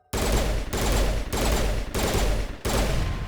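Sustained automatic gunfire from a weapon in the video game Mass Effect, loud and dense, firing in four long continuous bursts separated by brief pauses.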